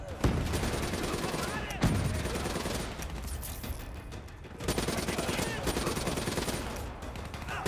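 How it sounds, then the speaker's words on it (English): Dense automatic gunfire and explosions from the video game Call of Duty: Black Ops III form loud, continuous battle noise with a few sharp sudden blasts. "Taking heavy fire!"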